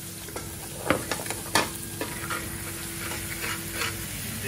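Masala with chili powder, mix powder and fenugreek leaves sautéed in a pan for chicken jalfrezi, giving a soft continuous sizzle with a few spoon scrapes and taps near the start.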